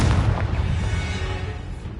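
A Confringo fire spell explodes during a video game battle, a heavy booming blast whose deep rumble fades gradually over about two seconds, with no voices.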